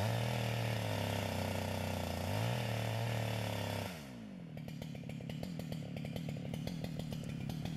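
Chainsaw cutting the felling notch in a standing tree during a plunge-cut felling, the engine roaring steadily and loud, then dropping to a choppier, lower pitch as the bar bites into the wood, with no talk.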